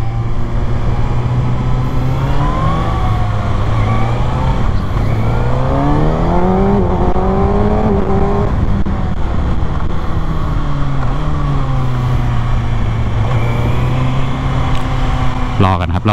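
A Kawasaki ZX6R sport motorcycle laps a race track, its loud engine revving up and down steadily and close to the listener throughout.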